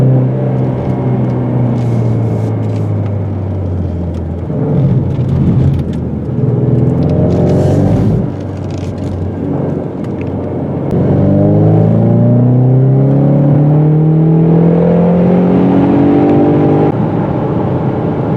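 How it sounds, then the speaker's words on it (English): A 2020 Ford Mustang 2.3L turbocharged engine revs and accelerates through several gears, a loud rumbling drone rising in pitch, easing off, then climbing again steadily. "Opening up the turbo."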